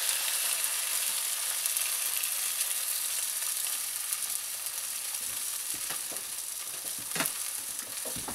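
An egg, cheddar cheese, salt, pepper and seasoning salt mixture frying in a hot pan, a bright steady sizzle that grows busier with crackling pops toward the end.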